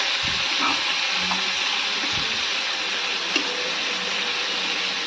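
Black-eyed peas sizzle steadily in a hot pan without water while being stirred, with a constant frying hiss and a few soft scraping knocks.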